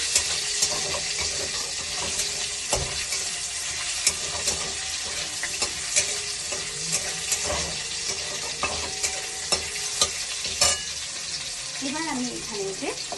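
Nigella seeds and two or three green chillies tempering in hot oil on lowered heat: a steady dense sizzle and spatter throughout, close and bright, with occasional utensil taps and a brief faint voice near the end.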